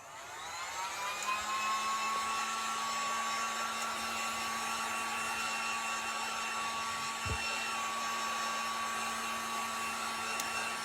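A hair dryer blowing steadily and loudly at close range while drying paint on a DIY rustic wooden bird house, a continuous whirring roar with a constant high whine that holds for the whole stretch.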